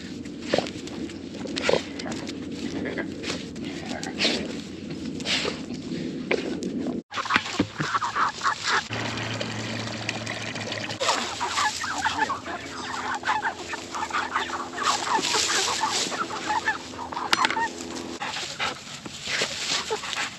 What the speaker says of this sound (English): That old rooster, he ain't backing down.